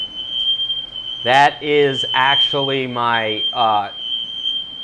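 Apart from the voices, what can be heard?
smoke alarm beeping in kitchen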